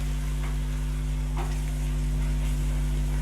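Garlic paste frying in a pan for mutton kata kat, a continuous close hiss over a low steady hum, with one brief scrape of stirring midway.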